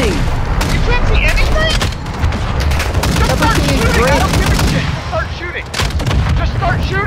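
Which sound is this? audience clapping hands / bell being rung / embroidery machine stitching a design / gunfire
gunfire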